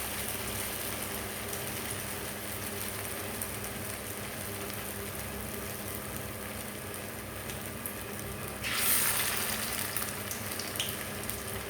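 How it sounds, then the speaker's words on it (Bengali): Shaped pieces of batter fry slowly in oil with a soft, even sizzle that runs steadily throughout, rising briefly to a brighter hiss near the end; no voices. "আমি কিন্তু তেলের মধ্যে দিয়ে দেবো আস্তে আস্তে এটাকে ভেজে নেব"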